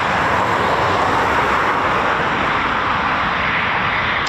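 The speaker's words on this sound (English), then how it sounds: "That whistle sound there, that's our Typhoon engine starting up." A Eurofighter Typhoon FGR4 jet engine spools up at RAF Coningsby, a steady, loud broadband roar with a faint high whistle running throughout, no voices over it.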